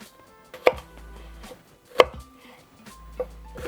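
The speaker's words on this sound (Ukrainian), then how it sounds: "Нарізатиму я її на кубики." Half an onion being cut into cubes with a knife, three separate sharp chops against a cutting board, spaced apart and fairly close, with no talking.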